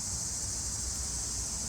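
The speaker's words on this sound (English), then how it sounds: "Oh my god, the cicadas got so loud." Loud cicadas drone outdoors in a continuous, piercing, high-pitched buzz that holds steady without any break, with no voices over it.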